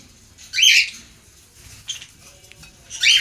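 Pet birds kept at home give two loud, harsh squawking calls, one early and one at the end, with a softer call between them over a quiet indoor background.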